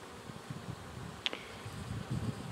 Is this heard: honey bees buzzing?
yes